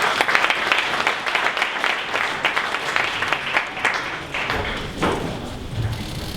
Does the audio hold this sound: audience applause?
yes